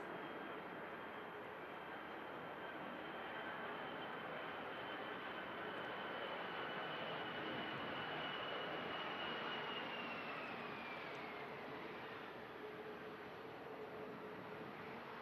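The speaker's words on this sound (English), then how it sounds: "coming in from Barcelona, the Mitsubishi Challenger 850" A Mitsubishi Challenger 850 business jet arrives at Manchester Airport in strong winds, a steady loud engine roar with a whining tone that slowly falls in pitch, continuous throughout with no talk.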